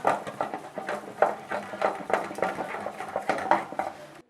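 Liquid soap mixture made with sulfonic acid is stirred in a container, giving a quiet, rhythmic series of light clinks and scrapes repeating about twice a second.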